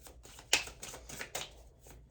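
Tarot cards riffle and slap together in a few quick bursts, close by, with short pauses between shuffles in a quiet room.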